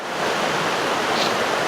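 A creek running high after a week of rain rushes in a broad, steady roar of flowing water, close and loud throughout with no voices over it.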